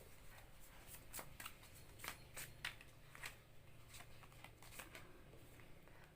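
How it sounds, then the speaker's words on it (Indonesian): Tarot cards are riffled and shuffled by hand close to the microphone, a series of quick papery flicks and slaps repeating irregularly over a quiet room. "Akan aku buka kartu tarotnya."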